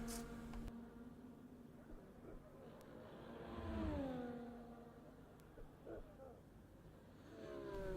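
A racing car engine drones through a qualifying lap in a Formula racing video game at Hungary, rising and falling revs with gear changes across several seconds, quiet beneath a commentator's voice.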